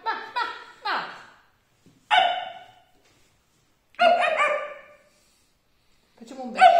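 A person mimics a small dog barking, giving short bursts of two or three yappy barks separated by pauses. The barks are close and fairly loud, with silence between the groups.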